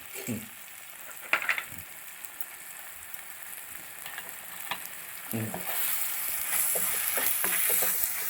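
Small onions hit hot oil for a Kottayam-style Kerala fish curry, crackling and sizzling steadily with occasional stirring clinks. The frying gets louder and brighter toward the end.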